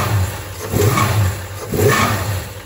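A 1968 Dodge Charger with a 383 big block idles rough and lazy, as if running on four cylinders with a clogged idle circuit, giving a close, lumpy, uneven rumble with two surging swells.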